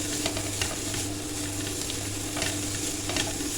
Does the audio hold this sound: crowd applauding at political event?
no